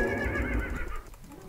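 Neighing horses in a Minecraft Technic Pack game, green slime-like horses, a loud close whinny with clip-clop hoof sounds, then fading toward the end.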